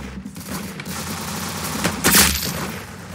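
Rapid gunfire in the Roblox shooter Arsenal, a dense run of shots with a louder burst near the end, heard alone without talk.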